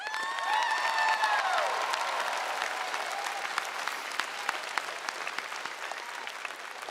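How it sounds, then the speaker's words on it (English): Graduating seniors and audience at the 2018 Staunton River High School graduation ceremony break into loud sustained applause with cheers and whoops, sharp individual claps standing out as the ovation slowly thins. "Let's give ourselves a big round of applause."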